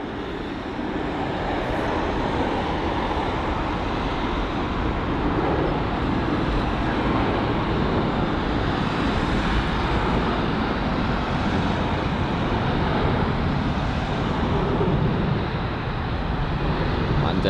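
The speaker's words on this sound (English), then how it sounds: "the British Airways A320-200 heading over to Salzburg" A British Airways A320-200 airliner departs Heathrow, its broad, steady jet roar filling the air at a constant level throughout with no clear rise or fade and no voices.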